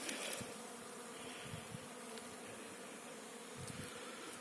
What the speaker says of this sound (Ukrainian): Так наші бджоли тут гасають.